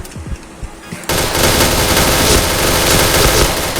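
Gunfire in the Point Blank video game: after a quieter opening second with a few faint clicks, a loud, continuous burst of rapid shooting fills the rest.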